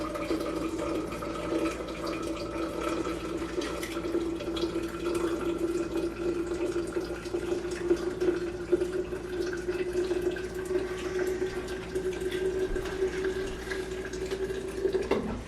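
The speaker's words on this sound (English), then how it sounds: "Fill it up again with my boiling water, about half full." Boiling water pours steadily into a jar, a continuous gurgling stream whose tone slowly rises as the container fills, close and unbroken.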